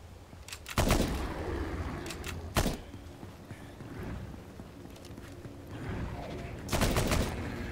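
Gunfire in the video game Nether: sharp, loud shot bursts break out at a few moments, with scattered quieter distant cracks and a low background rumble between them.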